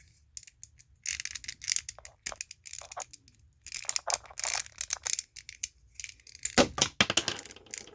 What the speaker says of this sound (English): It's not as easy to tap the gun back in place while recording